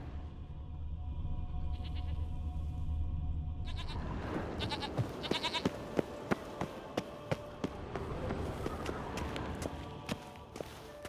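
Goats bleat in The Witcher 3: Wild Hunt, their calls rising over ambient game sound, followed by steady rhythmic thuds like footsteps or hooves running, no talk.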